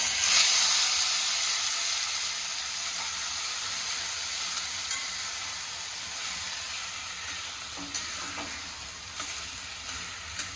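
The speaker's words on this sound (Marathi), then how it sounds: "आता मी याच्यामध्ये आपण जी कैरी किसून घेतली ती ऍड करून घेत आहे" Grated raw mango sautéing in ghee with cashews in a pan for a sweet mango preserve gives a steady, close sizzle that starts loud and eases slightly, with a few soft scraping stirs near the end.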